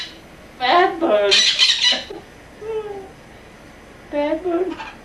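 A pet bird calls indoors in a home, giving a few short squawking bursts with pauses between them, close and fairly loud, while people talk nearby.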